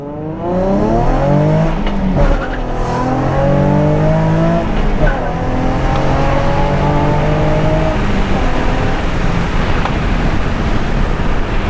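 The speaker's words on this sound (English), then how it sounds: "now we are out for a test drive. Let's see how it sounds. Full throttle." A Nissan 350Z HR with a test pipe exhaust roars at full throttle, its exhaust rising and falling in pitch through the gears, loud and continuous with road and wind noise.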